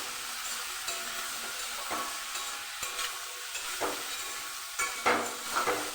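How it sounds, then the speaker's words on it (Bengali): Spine gourd and potato pieces frying in a pan with salt and turmeric, a steady close sizzle with intermittent scraping stir strokes. "দিয়ে আমি ভালো করে এটা লাল করে ভেজে নেব।"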